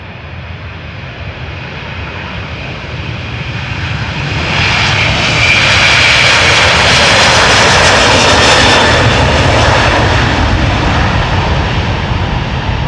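A loud jet-engine roar builds into a sustained, powerful rumble as an airplane takes off nearby at Amsterdam Schiphol Airport, staying intense without any voices.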